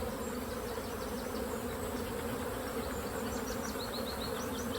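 Honey bees buzz steadily around hive combs while a colony is being split, a dense, continuous close-up drone with small flickering wingbeat pulses throughout and no talk.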